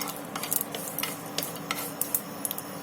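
Peanuts being stirred and fried in a pan with crackling mustard seeds, a close busy scraping and rattling of spoon against pan over a soft sizzle, quick irregular clicks throughout, no voices.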